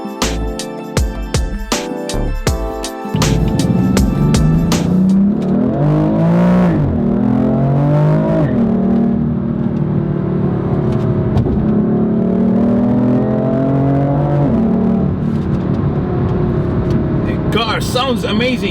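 A BMW M4 LCI Competition exhaust booms loudly while driving, rising and falling as the car accelerates and shifts, with a few sharp pops at the start and a steady roar throughout.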